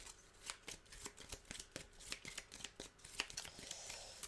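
A deck of cards is shuffled during a tabletop card game, a quiet run of rapid riffling flicks and soft snaps repeating in quick bursts, close and alone with no talk.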